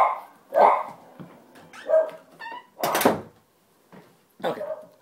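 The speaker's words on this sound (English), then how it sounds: "Sorry about the dog barking." Pet dogs bark indoors in several loud, sharp bursts spread over a few seconds, with a pause between, close by and alone without talk.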